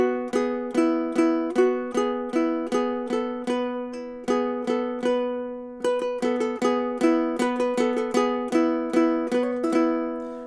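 A small Loog guitar picks out a simple, steady melody, one clear plucked note after another, each ringing briefly before the next, played alone with no voices.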